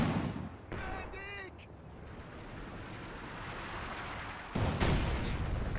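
Company of Heroes 2 infantry gun barrage: a brief burst of shell fire near the start and another heavy boom near the end, with rumbling battle noise between and game voices speaking.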